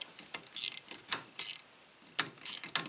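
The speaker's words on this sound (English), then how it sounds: "So first, we'll just go with the ratchet with the 8mm." A ratchet wrench fitted with an 8mm socket clicks on a bolt in rapid bursts, four or five separate runs of close, crisp pawl ticks with short pauses between them and no talking.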